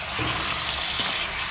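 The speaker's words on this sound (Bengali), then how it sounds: "এবার একটু হাই ফ্লেমে চিকেনটাকে আগে নেড়ে চেড়ে নেবো" Yogurt-marinated mint chicken pieces are stir-fried in a pan over high flame, making a brief, fairly loud sizzle with a soft stirring scrape.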